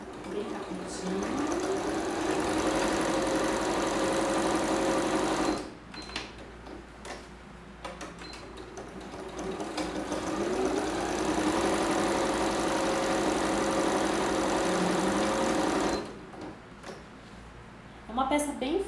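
A sewing machine runs in long continuous bursts stitching a safety seam on a blanket for a children's pouch, with brief pauses between runs and a voice talking during the stitching.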